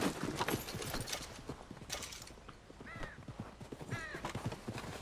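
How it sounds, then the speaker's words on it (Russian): Horse hooves clip-clop in Red Dead Redemption 2 during a train robbery: a steady, rhythmic run of hoofbeats with mechanical clanks mixed in, moderately close and continuous throughout. "Что-то там кто-то, я слышу, на лошади двигается."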